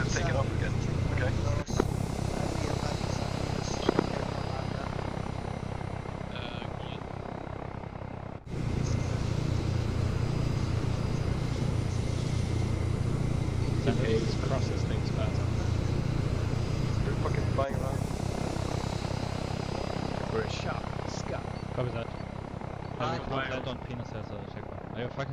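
An aircraft's engine takes off in the military game Arma 3. Its steady, heavy rotor-like drone runs continuously under frequent voices, with brief breaks and swells in the roar.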